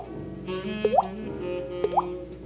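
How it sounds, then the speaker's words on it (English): Water dripping from a faucet, two distinct drops landing about a second apart, each a clear rising plop, close and moderately loud over a quiet steady background hum. "you start hearing the drip"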